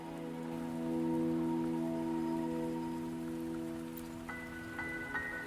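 Rain falling in the video game Wuthering Waves, a steady soft wash of drops over sustained background music tones, with a few brighter chime-like notes near the end.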